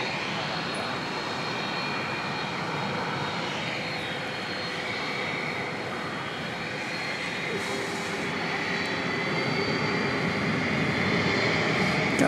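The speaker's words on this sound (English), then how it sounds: "we missed this 10-year-old 777 arriving from south of the border" Boeing 777 jet airliner, about ten years old, arriving at DFW Airport at night, a steady broadband engine roar held throughout and swelling slightly toward the end, with faint voices underneath.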